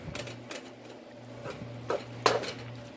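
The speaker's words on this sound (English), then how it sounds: "And then you just mix it in there really well." Spoon stirring chicken pot pie sauce thickened with flour in a pot, with a few soft scrapes and a couple of sharper metallic clinks against the pan over a low steady hum.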